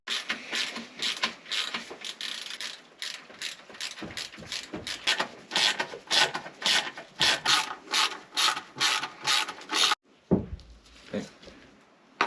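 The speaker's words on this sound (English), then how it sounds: "We're going to torque the bolts to 17 Newton meters all around" A ratcheting torque wrench tightens coupler bolts on a Yamaha VX110, giving a close, steady run of sharp clicking bursts in quick rhythmic strokes with brief pauses, and no talking.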